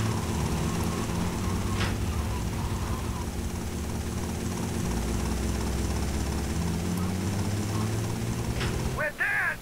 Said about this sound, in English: Choppers actually shoot very aggressively in this game.